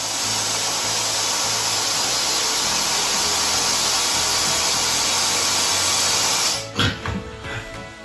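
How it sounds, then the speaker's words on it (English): A vacuum cleaner drones loudly and steadily as a broadband hiss for several seconds, then cuts out, leaving a few scattered thumps. "grab your vacuum cleaner and listen to it drone away"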